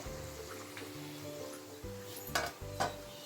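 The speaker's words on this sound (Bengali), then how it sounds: "এইরকমভাবে পরপর ভেজে তুলে নেব" Kachori puffing in hot oil, a soft continuous sizzle under a low steady hum, with two brief louder bursts of bubbling and spatter near the end.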